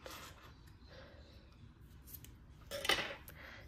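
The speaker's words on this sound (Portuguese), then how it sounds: "Então, eu vou cortar esse fio." Scissors snipping crochet yarn while a small crochet Christmas tree is finished off, a quiet close room with faint handling noise and one sharp, brief cut near the end.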